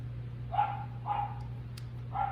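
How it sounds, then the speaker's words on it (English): A dog barks three times at a distance, muffled and spaced about half a second apart, over a steady low electrical hum. "My dog is barking outside."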